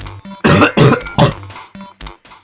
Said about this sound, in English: you may hear me coughing a fair bit because I do have a little bit of a cough